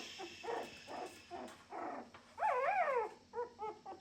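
A tiny Schnoodle puppy whimpers and yips up close, a string of short whiny cries followed by a higher, wavering whine and a few quick squeaks, fairly faint.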